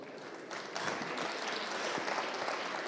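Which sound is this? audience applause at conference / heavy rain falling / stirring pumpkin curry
audience applause at conference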